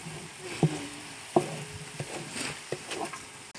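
Tomatoes and ginger-garlic paste are stirred and sautéed in a large pot of hotel-style parotta salna for 200 people. A low sizzle runs under a few distinct scrapes and clanks of the spoon, with no talking.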